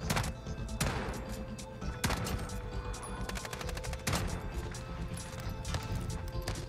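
A gold MK2 Carbine fires in Modern Warfare, sharp single reports spaced about a second apart with clattering action noise and ambient game sounds between shots, close and loud.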